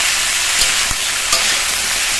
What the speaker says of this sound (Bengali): ভাজা হয়ে গেলে এর মধ্যে কেটে ধুয়ে রাখা পুঁই শাক আর আলুটা দিয়ে আগে ভেজে নেব